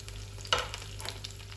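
A few curry leaves dropped into coconut oil that is not yet fully hot, giving one short crackling burst and then a faint, brief sizzle.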